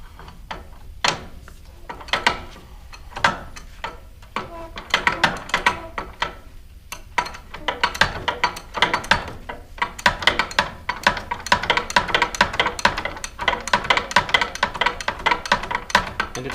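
Hand ratchet tightening the front idler on an SK800 snowmobile, rapid repeated clicking strokes close by, sparse at first then becoming dense and continuous, with metallic knocks between bursts.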